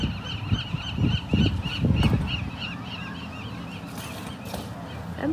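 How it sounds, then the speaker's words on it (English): Geese honking and other birds calling in a recording played back at sunset, repeated honks over a steady background of chatter-like noise, moderately loud and continuous. "and the birds."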